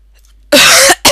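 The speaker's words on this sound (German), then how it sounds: "Ja, schlimmer Husten" A person lets out a bad, harsh cough, one loud burst followed by the start of a second, very close to the microphone after a quiet moment.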